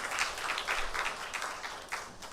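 A crowd claps steadily and fairly faintly, a continuous patter of applause from an audience some distance away, at a university chapel service with string accompaniment.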